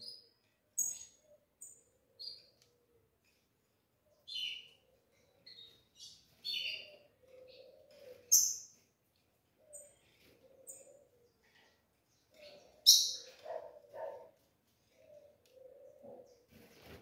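A rufous-collared sparrow (tico-tico) gives short, sharp chirps and high tweets, scattered irregularly and close by, with soft lower cooing-like calls in between during quiet intervals.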